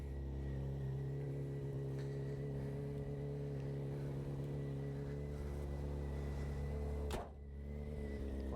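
A motorcycle engine runs at a steady idle after a jump start, a close, even, droning rumble that holds for several seconds before a brief knock and a slight dip.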